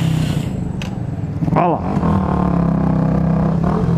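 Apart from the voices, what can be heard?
Yamaha Factor 150 ED motorcycle braking and skidding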